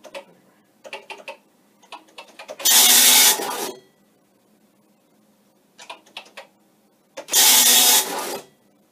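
A vintage tractor-feed printer connected to a Commodore PET prints in bursts, with rapid ticking clatters between two louder buzzing print passes, close and clear.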